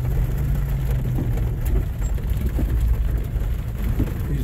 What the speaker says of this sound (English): We're getting hit by pretty heavy rain.